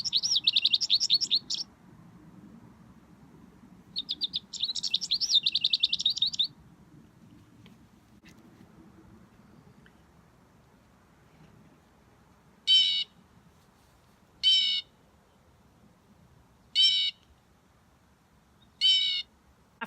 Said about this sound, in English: the fun thing about it is that we can listen to what each bird sounds like.